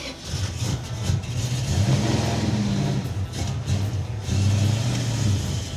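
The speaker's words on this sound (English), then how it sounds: "All right, fired up, Ryberger, let's go." The Red Duster car's engine fires up and revs steadily, a loud, continuous rumble with rising and falling throttle swells throughout, close and alone.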